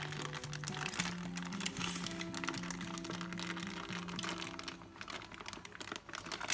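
Baking paper peeled away from an apple mascarpone cake, a steady crinkling and rustling of paper close by, continuous over a soft background hum with no speech.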